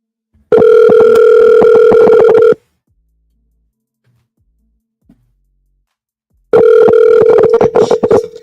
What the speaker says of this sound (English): Let me see if I can call him one more time.